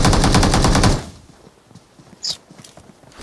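Gunfire in the mobile battle royale BGMI played on an iPhone 12, a rapid burst of loud automatic shots for about a second, then quieter scattered thuds and one brief sharp report.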